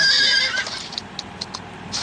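A horse neighs in the Free Fire battle-royale game, a bright whinny at the start followed by a few short clip-clop hoof taps, moderately loud over faint game ambience.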